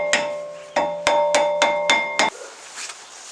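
Mallet pounding a seized brake rotor on a Volkswagen MK7 GTI, six loud, close, ringing metallic blows in a steady rhythm, followed by faint clatter.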